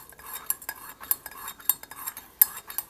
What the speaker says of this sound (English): Then the coffee, I'm stirring it.